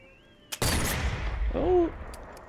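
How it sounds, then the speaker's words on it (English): A single loud, sharp gunshot from the Sniper Elite VR game cracks close by and decays into a brief rumbling tail, followed by a short mechanical clink. "Each time you try to shoot a gun"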